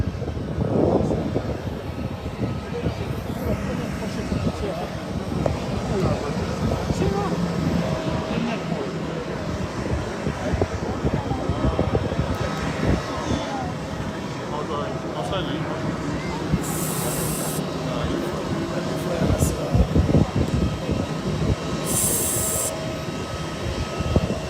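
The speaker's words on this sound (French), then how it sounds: "L'avion du président de la République vient d'atterrir." The presidential airplane, just landed at Mbuji-Mayi airport, roars with a broad, steady engine rumble, and people talk over it.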